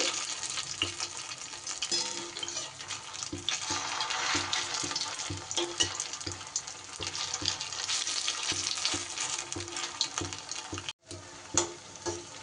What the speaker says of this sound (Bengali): এইবার মিডিয়াম ফ্লেমে সুন্দর করে উল্টে পাল্টে ভেজে নিতে হবে।